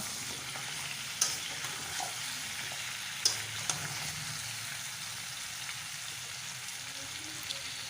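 Pumpkin and potato pieces with turmeric being stirred in hot oil, a steady close sizzle with a few sharp scrape and clack accents from the spoon against the pan.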